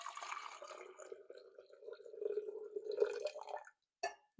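Hot steeped tea for Jun kombucha pours into a container in a faint, steady liquid stream lasting a few seconds before a short final splash.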